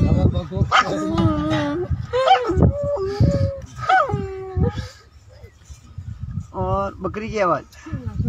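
A person imitates a big dog barking and howling, with deep repeated woofs and drawn-out howls in a voice mixed with speech.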